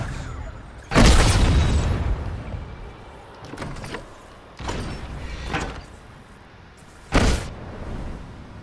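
Three heavy booming blasts from a cannon launch in Fortnite go off a few seconds apart, each loud and sudden, with a low rumbling hum filling the gaps between them.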